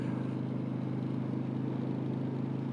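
A motorcycle cruising through town on a hot summer day, a steady low engine drone with even pulsing and wind rush, constant and unbroken with no change in pace.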